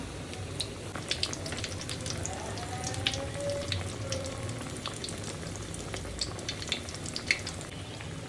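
Khaja pastry deep-frying in hot oil gives a soft, steady sizzle with scattered small crackles and pops, close and fairly quiet, with no talk.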